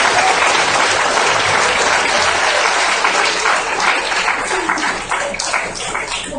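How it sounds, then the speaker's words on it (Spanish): A church congregation breaks into loud, dense applause during a sermon, steady clapping filling the room for several seconds before it begins to thin out. "dale un aplauso al Señor."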